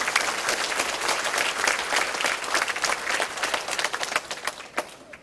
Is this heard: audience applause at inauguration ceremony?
yes